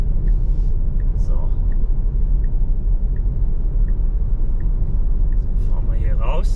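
A 2022 Tesla Model Y Long Range rolling slowly, a low steady road rumble with a faint regular ticking, while someone talks over it throughout.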